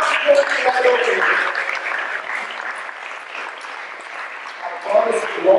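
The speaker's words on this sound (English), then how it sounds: "Give her a round of applause." A sideshow performance audience gives a round of applause for a volunteer called up front, steady clapping that fades slightly mid-way and swells again, with a performer's voice speaking over the start and end.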